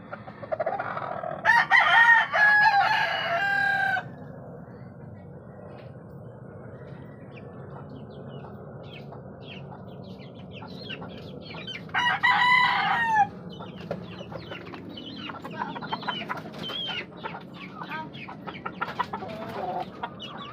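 Chicks and chickens at feeding time, with a steady chorus of soft clucks and peeping chirps, broken twice by a loud, close rooster crow.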